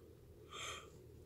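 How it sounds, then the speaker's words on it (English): A single drawn-out yawn, breathy and airy, rising and fading over about half a second, close and quiet, late at night during a talk about yarn. "I apologize I'm yawning so much."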